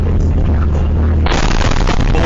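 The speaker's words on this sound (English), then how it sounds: "And there's the explosion." An explosion in Kerch, recorded from right next door: a loud, sustained, distorted roar that suddenly intensifies midway into a harsher, broader blast, overloading the recording throughout.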